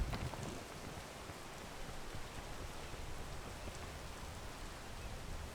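Steady rain falls in the climbing video game Peak, a continuous soft hiss of drops at an even, low level with no voices.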